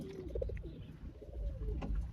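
Pigeons coo softly and repeatedly at close range while being fed grain and put into a cage, their low rolling calls over faint background rustle, without speech.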